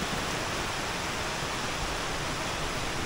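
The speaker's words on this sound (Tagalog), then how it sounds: "At eto na nga, at bumuhos na ang malakas na ulan." Heavy rain pours down steadily as a dense, unbroken roar of wide broadband hiss, loud and close throughout, during a stormy evening at a beach cabin on Polillo Island, Quezon Province, with strong wind.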